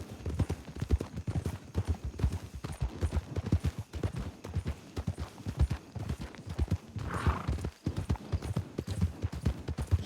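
Hooves clip-clop in a quick, steady rhythm as a horse is ridden bareback, close and prominent throughout, with a brief whinny-like burst partway through.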